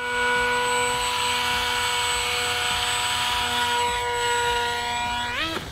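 Electric motor and propeller of a Wing Wing Z-84 RC delta wing plane, a loud steady high-pitched whine held for several seconds before spinning down sharply at the end.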